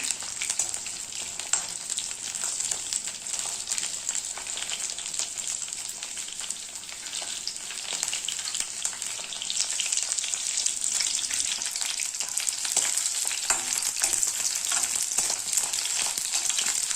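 Eggplant fries in plenty of oil and is turned from side to side, giving a close, continuous hissing sizzle with brief surges and small pops.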